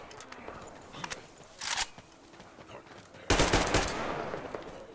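Gunfire in the video game Metro Exodus as the player shoots mutants, a short burst of shots followed by a louder sustained volley of rapid fire with a lingering tail.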